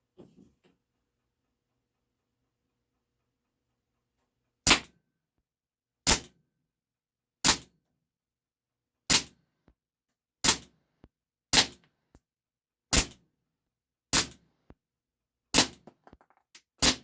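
A Taurus PT 24/7 G2 airsoft pistol firing 0.30 gram BBs, about ten sharp, dry cracks spaced one to one and a half seconds apart, loud against near-silence with small ticks between shots.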